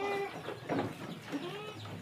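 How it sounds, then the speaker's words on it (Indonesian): Goats in a pen bleat in short calls with clucking fowl mixed in, several close cries spread over a couple of seconds against a quiet farmyard background. "Dan ini kambingnya lagi asik makan rumput"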